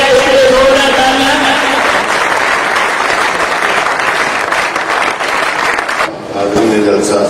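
Loud, dense applause from a gathered crowd at an outdoor flag-hoisting event in Pakistan, sustained for several seconds, with a voice speaking over the clapping near the start.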